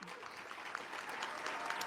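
A crowd at a prayer breakfast applauds, the clapping faint and distant but continuous through the short stretch, with no clear voices over it.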